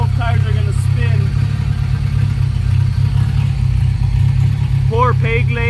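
A Rotrex-supercharged all-wheel-drive Honda Civic EM2 with a front limited-slip differential revs hard as both front tires spin, a loud, steady engine drone close by with people talking over it.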